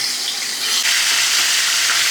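Loud, continuous sizzling of food frying in a hot pan, a dense hiss with no talking.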